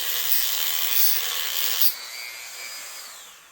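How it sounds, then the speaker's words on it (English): A rotary cutting bit grinds the wooden stock of a Belgian-made Eclipse Meteor 12-gauge double-barrel shotgun, a loud steady rasping whine close up that cuts off abruptly partway through and leaves a fading high ring. "Use a cutting bit, almost like a grinder instead, so we can control it better."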